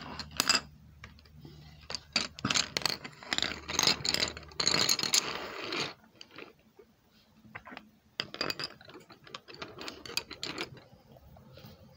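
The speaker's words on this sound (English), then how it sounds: "colored pencils, dump them out" Clattering bursts of many small hard objects rattling and scraping together, loud at first and then scattered lighter clicks and taps.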